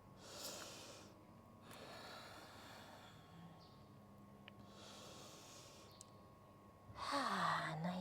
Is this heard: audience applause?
no